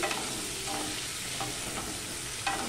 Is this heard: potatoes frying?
yes